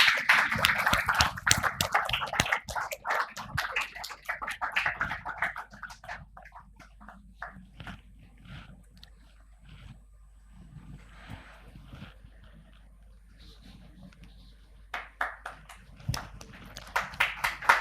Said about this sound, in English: Let us start the conference with a thundering round of applause as the lamp is lit